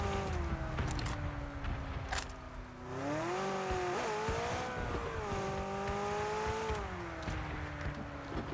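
Engine of a car driving in the video game PUBG, a steady loud motor drone that rises and falls in pitch as it revs and shifts throughout, close and continuous with no talking.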